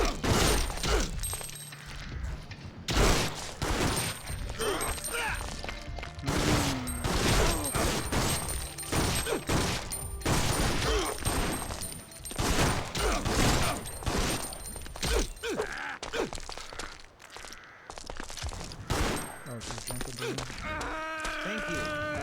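Gunfire and melee weapon strikes from Resident Evil Outbreak, with dense bursts of shots and impacts running loudly throughout amid game music and effects.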